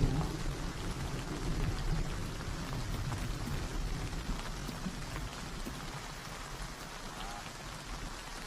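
Steady rain falls outdoors in the wild, a dense, continuous hiss of raindrops spattering on surfaces, with a faint low rumble beneath.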